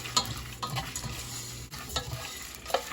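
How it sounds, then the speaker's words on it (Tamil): Coriander and spices sizzle and crackle as they fry in a pan for a spicy dark roasted chicken dish, with a steady close sizzle and intermittent stirring scrapes throughout. "கொத்தமல்லிலாம் எல்லாம் பொரிய ஆரம்பிக்குது."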